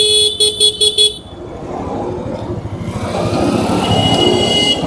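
A 2023 TVS Raider 125 BS6 motorcycle ridden in sport mode: a few quick horn beeps, then a steady engine drone with rushing wind and road noise that grows louder.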